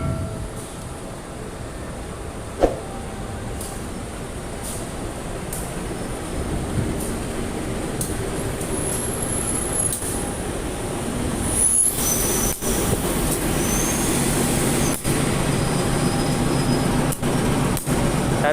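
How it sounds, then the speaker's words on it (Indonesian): Progo passenger train pulling in on track 3 at Lampuyangan station, a steady rolling rumble with brake squeal and sharp clanks building toward the end, heard alone without voices. "ini kereta api Progo masuk di jalur 3 stasiun Lampuyangan"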